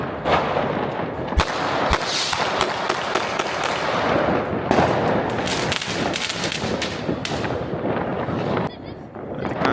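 New Year's Eve fireworks and firecrackers burst in the streets of Germany, a dense, continuous barrage of loud sharp bangs and crackles, some very close, with people talking now and then underneath.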